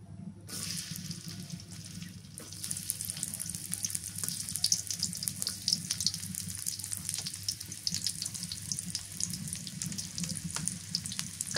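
Chopped onion sizzles as it hits hot mustard oil in a home kitchen pan, a steady bright hiss with crackles that starts after a brief quiet moment and keeps going, close and fairly loud.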